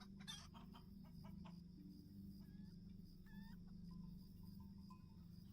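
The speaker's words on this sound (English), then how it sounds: "Yeah, you do hear chickens in the background." Chickens cluck and squawk faintly in the background over a steady low hum, with a few short calls scattered through several seconds; no one speaks.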